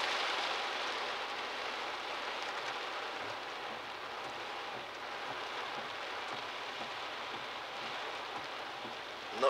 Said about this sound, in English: Looks like we're fully rained out